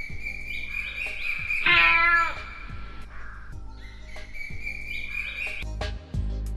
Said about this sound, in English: In the morning, the cat mewed.